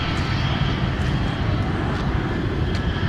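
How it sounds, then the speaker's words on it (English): A Delta Airbus airliner touching down at Minneapolis–Saint Paul in winter, a short burst of dense, loud engine roar that stays steady, close, no talk. "We got another Delta Airbus about to touch down"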